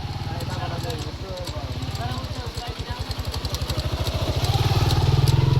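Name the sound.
motorcycle riding through floodwater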